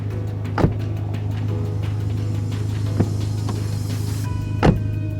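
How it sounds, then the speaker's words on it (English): Door of a 2016 FIAT 500c Abarth with an automatic 1.4 turbo shutting, a few solid, dull thuds close by over a steady low engine hum. "Catch the sound of the door here."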